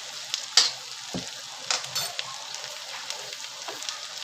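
Curry leaves and green chili hit hot oil with onions fried to a reddish brown for mung bean dosa, giving a steady close sizzle with a few sharper crackles and spits early on and no talking.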